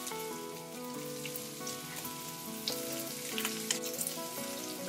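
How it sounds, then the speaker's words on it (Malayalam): Sliced onions frying in a pan for paneer burji, a continuous crackling sizzle, close and steady, with faint tonal background music underneath. "നമുക്കിനി ഇതിലേക്ക് അരിഞ്ഞു വെച്ചിരിക്കുന്ന 2 മീഡിയം സൈസ് സവാള ചേർത്ത് കൊടുക്കാം."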